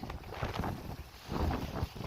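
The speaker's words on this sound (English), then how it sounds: "oh, it's very windy" Gusty wind on the Thames Estuary shore in Essex buffets the microphone in uneven, rumbling bursts, loud and close.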